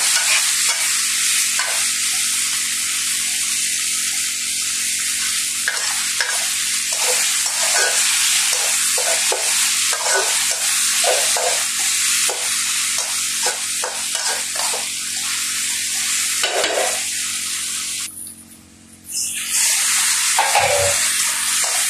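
Tomatoes and ground spices fry in a hot pan at home, a constant close sizzle with repeated scraping stirs of a spatula in a loose rhythm, a brief hiss of added liquid near the end, and no voices.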